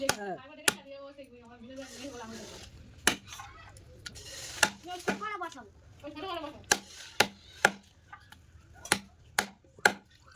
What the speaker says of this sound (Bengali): ওটা কেটে দিচ্ছি